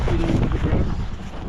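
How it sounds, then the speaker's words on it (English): Wind rushes and buffets the microphone aboard a sailing boat under headsail, a steady close roar with a faint voice underneath. "we've got a bit of wind"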